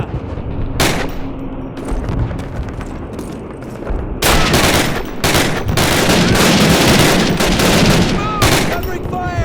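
Gunfire in Call of Duty (2003), a WWII shooter: isolated shots at first, then dense, loud, sustained machine-gun and rifle fire with booming impacts, in the middle of the battle.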